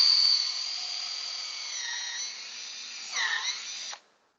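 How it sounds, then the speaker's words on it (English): A drill bores a small upward-facing tap hole into a maple tree on a snowy day, a steady high whine for about four seconds that dips in pitch under load near the end before stopping. "So I'm going to drill my little hole facing up"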